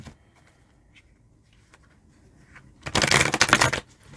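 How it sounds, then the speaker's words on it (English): Tarot cards shuffled by hand in one loud, dense burst of riffling near the end, preceded by a few faint soft taps and handling sounds in a quiet room. "One more shuffle."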